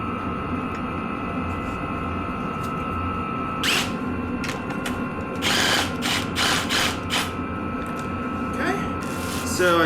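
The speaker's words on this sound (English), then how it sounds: "So I tighten that using a 6mm hex." A 6mm hex tool tightening a bolt on a Beta 390 RR-S dirt bike's front brake rotor guard, heard as brief ratcheting and clicking bursts over a steady hum, with a voice speaking intermittently.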